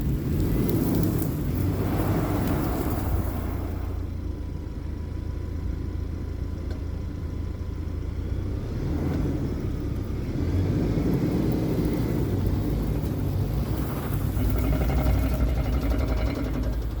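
A pickup truck on Hankook Dynapro AT/M or Cooper Discoverer ATP tires climbs a soft, brush-covered dirt incline in two-wheel drive, its engine giving a steady low rumble and drone that swells and eases as the tires work for grip.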